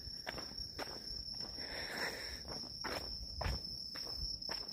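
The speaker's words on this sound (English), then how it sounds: "No, those are crickets now." Crickets chirp in a steady, high, continuous trill in the countryside at night, faint and even, with soft footsteps crunching periodically throughout.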